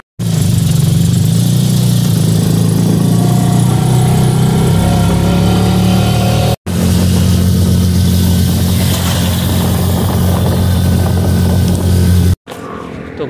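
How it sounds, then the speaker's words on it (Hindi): A motor rickshaw (chand gaadi) engine drones loud and steady during a ride, with a constant low rumble and rattle that cuts out briefly twice. "अब वो सामने चांदगाड़ी लगी हुई है, उस चांदगाड़ी में बैठूंगा गोकी दरबार जाने के लिए।"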